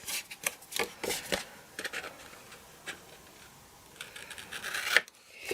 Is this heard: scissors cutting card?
yes